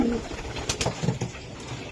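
Racer pigeons cooing in a loft, soft repeated coos and low murmuring close by over a steady background hum, with no voices.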